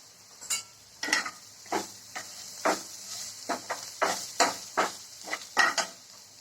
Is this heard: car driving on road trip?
no